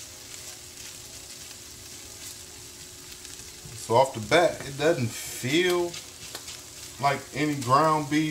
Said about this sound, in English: I'm gonna try to break my crumbles up just a little bit to, you know, break it down like taco size if I can